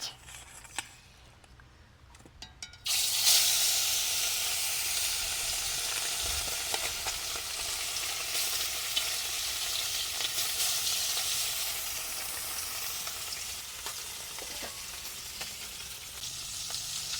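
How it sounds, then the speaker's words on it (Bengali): Fish dropped into hot mustard oil in a wok bursts into a loud, sustained sizzle after a quieter start with a few clinks, spattering steadily until the end. "আর এখন দিয়ে দেবো মাছ"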